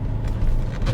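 Mercedes GLC 43 AMG rolling over road bumps, a steady low rumble from inside the cabin with a couple of soft thumps as the suspension takes the hits.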